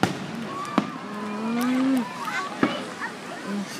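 Fireworks explode on Memorial Day, heard from near a boat: several sharp booms and cracks spaced a second or so apart, with whistling launches and excited voices talking over them throughout.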